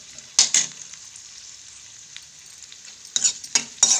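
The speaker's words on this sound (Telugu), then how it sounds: "ఇందులోనే కిస్మిస్ కూడా వేసుకుంటున్నాను. ఈ రెండు ఫ్రై చేసుకున్నాము." Cashews and raisins for atukula kesari prasadam fry in a pan, with loud, close bursts of spattering sizzle and stirring at the start and clustered at the end, and quieter frying between.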